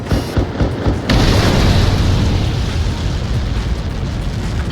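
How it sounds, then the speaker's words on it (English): A large explosion in the Ace Combat 7 video game, Mission 19, from an impacting Helios projectile erupts suddenly after a quieter stretch, then holds as a loud, sustained roaring rumble. "How many got caught in that explosion?"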